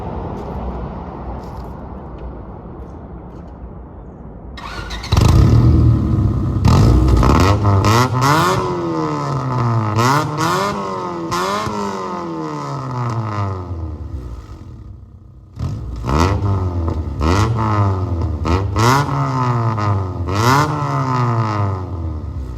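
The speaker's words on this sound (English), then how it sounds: "I'll get a few sound clips of this exhaust for you guys." A car's exhaust revs repeatedly from idle, loud and close, with rising and falling engine sweeps in two bursts separated by a brief drop back to idle.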